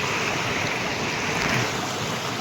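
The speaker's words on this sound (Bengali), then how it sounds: "দেখুন আওয়াজটা দেখছি জলের" A river in a forest rushes past in a loud, dense, continuous roar of water, close by and steady throughout, with no talk.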